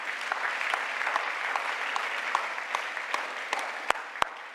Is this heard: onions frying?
no